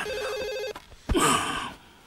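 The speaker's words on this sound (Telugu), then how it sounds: "ఫోన్ రింగ్ అవుతుందండి." An electronic telephone ring trills rapidly for under a second, then stops, followed by close handling and rustling noises.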